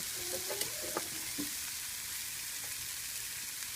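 Egg puff filling deep frying in hot oil, a steady soft sizzle and bubbling with a few faint clinks near the start, no voices.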